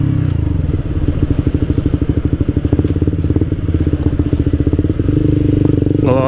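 Suzuki GSX R150 motorcycle fitted with an Akrapovic exhaust, idling close up with a deep, steady rapid putter and regular pulsing thumps, then a brief rev at the end.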